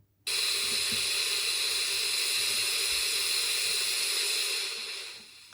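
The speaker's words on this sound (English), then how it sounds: "So that is the white noise." A steady, loud broadband white noise hiss from a noise generator switches on abruptly and holds evenly, then tapers off slightly at the end.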